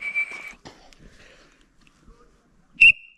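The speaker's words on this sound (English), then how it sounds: "blow a whistle" A tourist police guard in Sylhet, Bangladesh, blows one short shrill whistle blast near the end, after faint scattered sounds and a brief earlier whistle-like tone.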